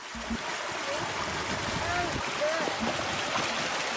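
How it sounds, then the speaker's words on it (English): Rushing, churning water from a pontoon boat moving steadily along at full speed, with a low motor drone and faint splashes beneath. "the propeller moves the boat through the water at full speed"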